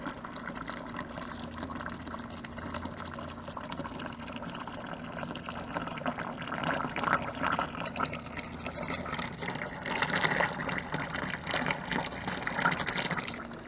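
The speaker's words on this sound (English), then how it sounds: "got my mash running off into my boil kettle" Sweet wort from a British golden ale mash runs off into a boil kettle with a continuous splashing, trickling pour that swells a little in places, close by with no voices.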